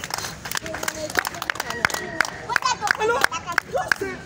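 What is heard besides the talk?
congregation applauding and cheering in church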